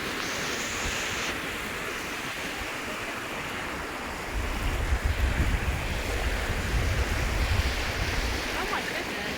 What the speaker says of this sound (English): Time to dip our feet in the ocean on Clark's Beach